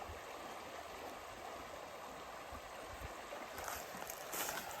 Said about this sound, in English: there's some white water action going on here